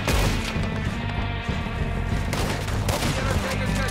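Dense, loud gunfire from Red Dead Redemption 2 fills a shootout, with rapid overlapping shots and booms continuing for several seconds and little letup.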